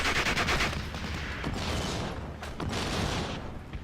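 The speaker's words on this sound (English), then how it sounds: "Now, firing mortars at this fella here is not so effective, but it will do." Mortar fire in the Steel Division: Normandy 44 game, heard as a dense run of booming blasts and rumbling impacts over steady battlefield noise, loud and continuous with several sharper hits.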